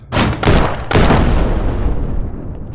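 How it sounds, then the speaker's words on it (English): Sniper rifle shots ring out in the VR shooter Shotwood: three loud, close cracks in quick succession, the last trailing into a long echoing decay. "this sniper is pretty reliable, especially when there's a laser on it"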